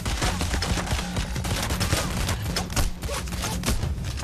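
Rapid gunfire from the heist shooter PAYDAY: The Heist, a dense, continuous barrage of overlapping shots that stays loud and close for the whole stretch with no pauses.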